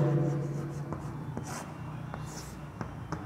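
Chalk or marker writing on a classroom board during a physics lesson on mirrors, a few short scratchy taps and strokes spaced across a few seconds, fairly faint under room hum with no talk.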